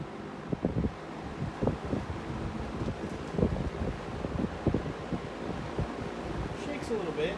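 Vintage Lasko Breezemaker box fan running on low, giving a soft steady airy whoosh with light rattling and buffeting, while someone talks over it.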